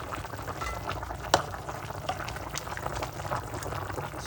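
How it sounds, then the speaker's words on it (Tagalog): Chicken simmering in Sprite in a pot, a soft continuous bubbling boil with small pops and gurgles, fairly quiet and steady with no talking. "Yan, kumukulo-kulo na siya"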